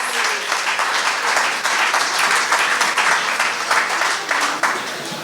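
Steady applause from a sizable audience at an evening music set in a brewery, dense clapping that swells slightly and holds for several seconds without pause.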